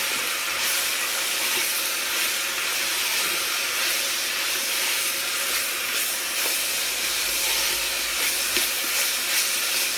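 Carrots browning in a hot pan with herbes de Provence give a steady, dense sizzle and hiss that continues unbroken for the whole stretch, with no talking.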